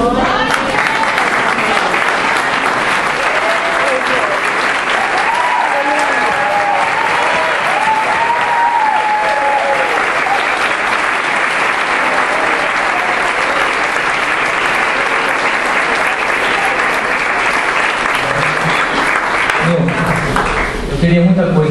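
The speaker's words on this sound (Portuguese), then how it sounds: "Eu quero convidar toda a igreja nesse momento a se colocar de pé e aplaudir ao Milton" A church congregation stands and applauds loudly in a sustained wash of clapping lasting about twenty seconds, with some voices and cheers mixed in before it tapers off at the end.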